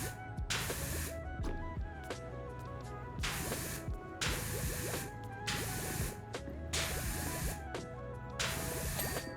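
In PowerWash Simulator, a pressure washer sprays metal cleaner in repeated hissing bursts about a second long, broken by short pauses. A soft game soundtrack with melodic tones plays underneath.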